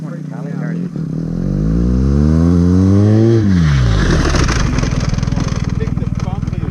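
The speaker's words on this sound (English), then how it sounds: "He's going to hit the brakes on the bitumen, but run it into the dirt." A BMW GS adventure motorcycle braking from bitumen onto dirt, its engine swelling up in pitch then dropping as it slows, with a rough, pulsing idle and talk over the top.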